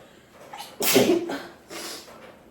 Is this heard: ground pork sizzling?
no